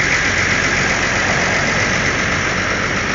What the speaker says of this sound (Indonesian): suara mesinnya masih lembut ya, masih halus teman-teman